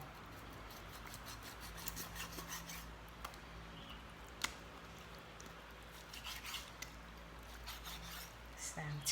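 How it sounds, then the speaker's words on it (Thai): A knife slicing pork belly into thin pieces on a board, with soft repeated cutting and rasping strokes under a steady background hum. "ซอยหมูก่อนนะคะ หั่นหมูก่อน"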